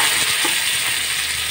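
A small tomato drops into hot oil with roasted peanuts, giving a loud, steady, close sizzle that fills the whole moment with no voices.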